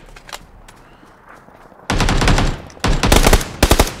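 Gunfire in the battle royale game PUBG on the Sanhok map, with a quiet lull followed by sudden loud bursts of rapid automatic shots, close and sharp, ending in several separate single cracks.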